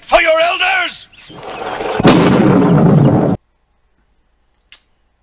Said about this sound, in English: After that huge explosion, Hercules falls to Earth and into the middle of the ocean.